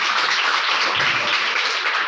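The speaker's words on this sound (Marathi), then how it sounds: "सर्वांनी जोरदार टाळ्या वाजवा." An audience claps loudly in a dense, continuous burst of applause lasting around two seconds, with no one speaking over it.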